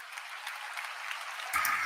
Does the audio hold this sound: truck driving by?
no